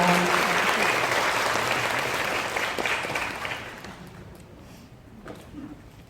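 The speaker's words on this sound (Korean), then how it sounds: "박수로 맞이해 주시면 감사하겠습니다" Parents at a Korean arts high school admissions briefing applaud to welcome the school principal; loud sustained clapping from a seated audience that gradually fades away toward the end.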